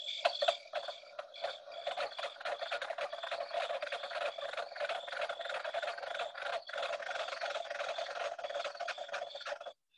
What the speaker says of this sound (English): Here's the mink frog, which is also quite a bit different than green frog.